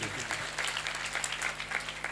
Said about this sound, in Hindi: ताली बजाएं यीशु के लिए